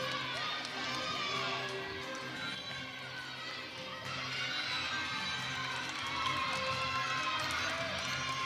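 A crowd at a Nebraska at Penn State gymnastics meet keeps up a steady, enthusiastic cheering roar for several seconds, with a commentator's voice talking over the noise.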